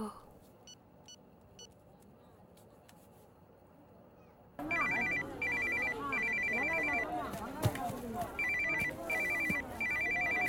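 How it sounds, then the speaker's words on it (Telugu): An electronic phone ringtone repeats in bursts, loud and close, starting partway through after a quieter stretch with faint tones, with a voice talking under it. "అమ్మ ఫోన్ చేస్తుంటే తీవేంట్రా"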